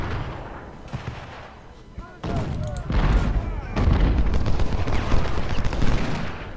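Ultimate General: Civil War battle sounds: dense rolling musket volleys and booming artillery fire, loud and continuous, building in intensity, with someone talking over it at times.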